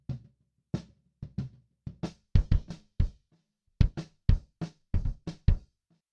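A soloed kick drum track plays back in a DAW during drum EQ work, giving about fifteen separate punchy thumps in an uneven pattern, some single and some in quick pairs, close and dry with no other instruments.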